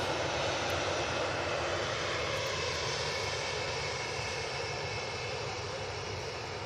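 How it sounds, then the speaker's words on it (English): An Emirates jet airliner approaching Manchester Airport produces a steady, distant engine roar that holds evenly throughout and fades only slightly toward the end. "Emirates is approaching Heel Green."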